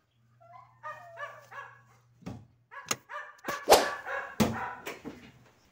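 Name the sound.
dog barking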